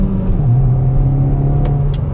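A 2022 Hyundai i20N hot hatchback with a 1.6 litre four-cylinder petrol engine, driven in sport mode and accelerating hard. It gives a loud, steady, close engine drone with a rising pitch and no talk.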